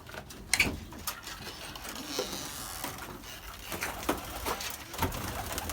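Pigeons coo softly in a coop, with low, intermittent calls and occasional wing flutters or light knocks against a quiet background.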